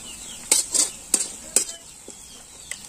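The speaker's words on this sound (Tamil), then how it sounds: "மிளகாய்த்தூள் வதங்கிடுச்சு" Chili powder and turmeric being stirred and sautéed with golden fried onions in a pan, several sharp spoon scrapes and clinks against the metal in an uneven rhythm over a light sizzle.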